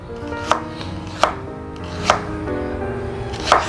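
A knife chops ginger into thin julienne strips on a board, four sharp, evenly spaced strikes standing out clearly and close against a quiet background hum, with no talk.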